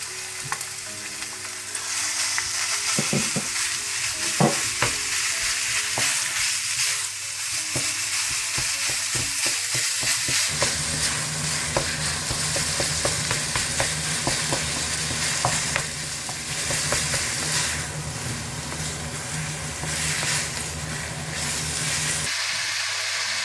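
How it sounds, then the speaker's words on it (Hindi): Chicken pieces sizzle loudly in hot oil in a pan while being stirred for spring roll filling, a steady close frying hiss with scraping stirs throughout, no talking. "थोड़ा सा भूनने के बाद आप इसमें चिकन डाल दें।"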